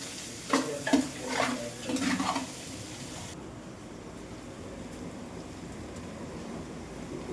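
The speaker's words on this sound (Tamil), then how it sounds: "கோஸை போட்டு நல்லா வதக்கி அது கொஞ்சம் வெந்து வரதுலேயே நல்லா கிண்டிகிட்டே இருக்கும்" Chicken and cabbage stir-fried in a pan, with a soft sizzle and a few scraping stirs near the start that fade into a low, steady frying hiss. No one speaks.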